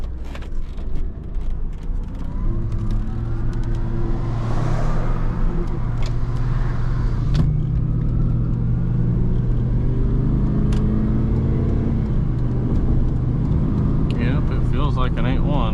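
Engine of an 8.1-litre pickup truck on a test drive, a steady close low rumble with rising revs and gear changes, continuous throughout with road noise.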